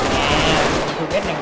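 Gunfire in the video game GTA 5: a dense, continuous burst of rapid shots and explosive crackle, loud and close, with no clear gaps over the short stretch.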